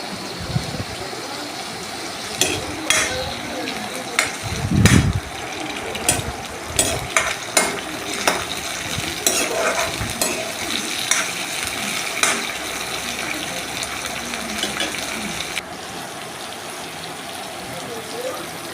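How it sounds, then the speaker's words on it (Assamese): Chopped tomato frying with browned onion in a pan for Assamese-style mixed vegetables, giving a steady low sizzle broken by repeated scraping stirs and clinks of a spatula, close up and without talk. "আকৌ বিলাহীটো 2 মিনিটৰ কাৰণে ভাজি ল'ম।"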